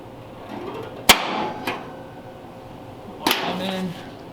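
A hammer strikes a center punch on metal in two sharp, bright clanks about two seconds apart, with a faint tap between and a short ringing tail after each blow.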